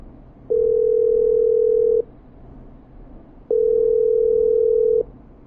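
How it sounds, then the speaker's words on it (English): A steady telephone line tone sounds during an outgoing call to a hospital: two long, even beeps of about a second and a half each, separated by a pause of similar length, clear over faint background hiss. "I'm dialing."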